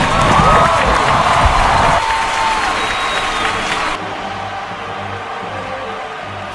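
Thunderous crowd applause and cheering right after a presidential oath of office, loud and dense at first, then dropping in level in steps while the clapping goes on.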